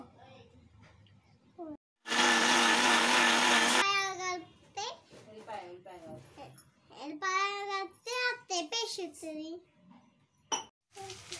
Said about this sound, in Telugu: మిక్సీ జార్లోకి ఉల్లిగడ్డ, టమాటా, అలాగే కరివేపాకు వేయించుకొని మంచిగా మిక్సీ పట్టుకోవాలి